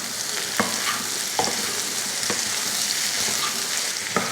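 Boiled sundal tossed with sautéed onions in a pan gives a soft continuous sizzle, broken by several sharp scrapes and taps of a spoon stirring against the metal at irregular intervals.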